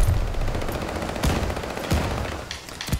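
Rapid gunfire from a Cooper Carbine in a first-person shooter video game, with repeated loud bursts and sharp shots over dense game noise, a few cracks standing out near the end.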